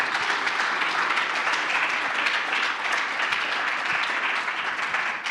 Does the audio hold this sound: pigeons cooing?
no